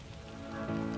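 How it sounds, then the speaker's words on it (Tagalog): Heavy rain on a foggy mountain trail at Elk Mountain near Chilliwack, a steady close hiss of drops pattering on the ground that grows slightly louder over one second, with no voices. "So, lumalakas na yung ulan ngayon."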